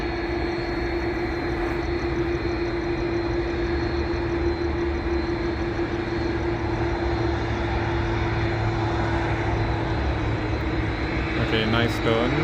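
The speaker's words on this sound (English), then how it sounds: "I think we should be getting a plane that is just taxiing" A jet airliner taxis at Sydney Airport, its engines giving a steady, loud, continuous whine and rumble with a constant tone throughout and no pauses.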